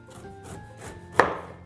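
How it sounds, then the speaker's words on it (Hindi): A knife saws through jackfruit, soft rhythmic scraping strokes ending in a sharper crunching cut, close and quiet with no voices. "यूं सीसॉ मोशन या आरी की मोशन में चाकू को चलाना है"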